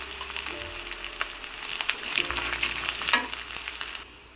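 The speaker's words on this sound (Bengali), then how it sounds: "এবার এটাকে একটু নেড়ে চেড়ে ভেজে নিব।" Turmeric, coriander and chili powder with vegetables sizzle and fry in a pan, stirred with a spatula in scraping strokes over a steady hiss, close and moderately loud, ending abruptly.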